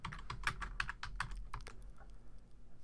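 Rapid keystrokes on a computer keyboard as a short word is typed into Photoshop Elements, a quick run of crisp clicks that tapers off into quieter, sparser taps near the end.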